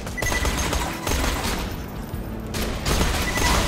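Gunfire in the Borderlands 2 Mister Torgue's Campaign of Carnage DLC, a dense, continuous barrage of overlapping shots and booms running throughout at steady loudness.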